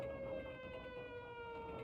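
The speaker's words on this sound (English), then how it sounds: "Siren doesn't sound like a real air horn." A steady, sustained alarm siren in the video game Blood: Refreshed Supply drones at a constant pitch with a rumbling background, quiet and unchanging throughout.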